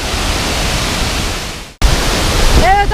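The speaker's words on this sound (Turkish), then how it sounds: "Arkadaşlar şimdi şelalenin en ihtişamlı yerindeyiz." Kapuzbaşı waterfall in Kayseri, Turkey, roars in icy weather as a loud, close, steady rush of falling water, briefly cut off once, with a faint high voice-like tone near the end.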